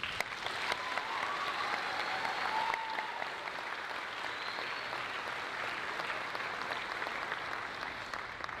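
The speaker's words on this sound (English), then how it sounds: "So please, a round of applause for them." Sustained applause from a large audience at a high school choral concert, an even wash of clapping that holds steady throughout without fading.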